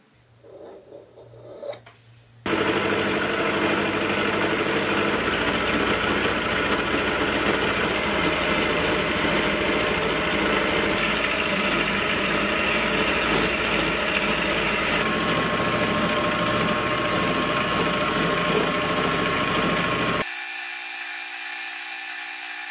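A steady, loud grinding rasp of a machine tool cutting a 45-degree slope into a metal toolmaker's mill vise runs continuously for about eighteen seconds, starting abruptly and ending suddenly.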